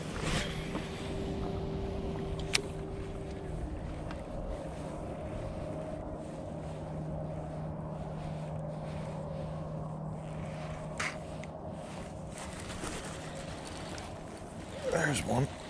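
A fishing boat runs to its first spot with a steady engine drone under heavy wind buffeting and rushing water throughout, with a brief louder swell near the end.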